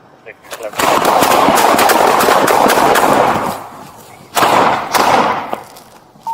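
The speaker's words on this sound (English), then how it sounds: "shots fired" Gunfire during a police shootout: rapid bursts of loud, close shots crackle in quick succession, fall off, then a second burst erupts, with shouting voices under the shots.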